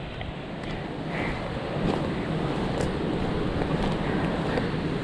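Strong wind at sea along the Andaman coast buffeting the microphone, a steady rushing roar with gusts swelling midway, mixed with faint water and surf noise.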